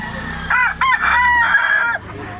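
A rooster crows loudly and close at a poultry market in Consolacion, Cebu, one long harsh cock-a-doodle-doo with a few faint background clucks.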